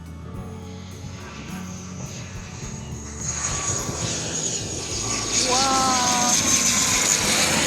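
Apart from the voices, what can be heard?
airplane flying over beach near airport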